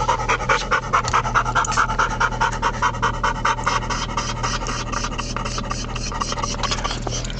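Rapid, steady panting from a dog close by inside a moving car, continuous and rhythmic over a low engine hum.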